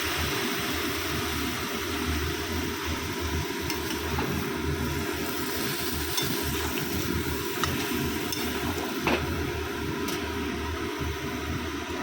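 Water hissing and sizzling in a hot frying pan of vegetables and greens with lentils, a steady close, continuous crackle with no talk.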